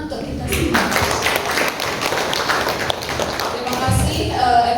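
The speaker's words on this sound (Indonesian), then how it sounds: "Tepuk tangan untuk kita semua." A workshop audience of English teachers claps briefly, the applause rising under talk and mixing with a few nearby voices throughout.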